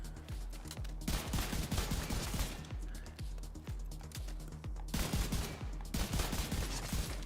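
A rifle fires in The Division 2 in rapid bursts of close, punchy shots, with regular reports packed together and brief gaps between volleys.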